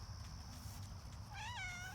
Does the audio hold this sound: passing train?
no